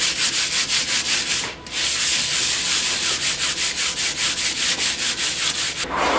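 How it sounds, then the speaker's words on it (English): Hand sanding of a concrete countertop desk with 3M wet/dry sandpaper to knock down high spots and brush marks. Close, rhythmic back-and-forth rasping strokes come in quick regular pulses with one brief pause and no talking. "I want to sand it and get down the high spots and the brush marks."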